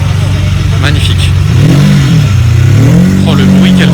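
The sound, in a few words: sports car engine revving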